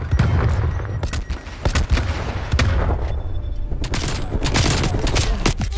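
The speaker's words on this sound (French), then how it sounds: "Grenade flash lancée." Rapid bursts of gunfire and explosions crowd a video game firefight after a flash grenade is thrown, loud and continuous with overlapping booms and shots.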